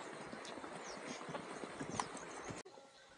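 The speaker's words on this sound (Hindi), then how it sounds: "एक दफा फिर जंगली घोड़े" Wild horses in open meadows near Dudipatsar Lake, with clip-clop hoof sounds and faint movement over a busy outdoor background that cuts off abruptly near the end.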